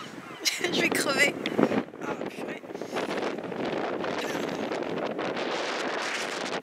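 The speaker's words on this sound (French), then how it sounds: "Mais il y a un vent à décorner les bœufs et les cocus." Strong wind buffets the microphone on a Normandy clifftop in steady, rough gusts, with a person speaking over the roar.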